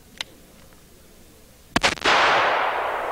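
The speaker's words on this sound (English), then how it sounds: "shooting the full-powered 44 Magnum load, which is a 240 grain bullet" A .44 Magnum revolver fires a full-power 240-grain load: one close, very loud blast with a crackling follow-up and a long, roaring echo tail, after a faint pop beforehand.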